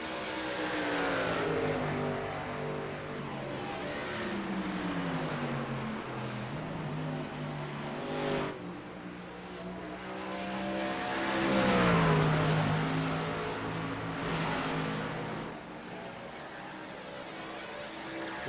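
Race trucks roar around the track in a truck series race, engines droning loud and steady, pitch rising and falling as they pass and shift, with no voices over them.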